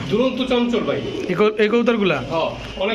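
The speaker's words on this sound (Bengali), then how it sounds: "গোল্লা কবুতর" Gola pigeons coo in overlapping rolling calls, close and loud, with some voices mixed in among them.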